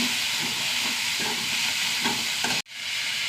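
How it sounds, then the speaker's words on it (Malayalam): Onions frying in a pan for a cabbage curry: a steady, close sizzle with faint stirring scrapes, running continuously before cutting off abruptly near the end. "സവാള ഒന്ന് വാടി വരട്ടെ."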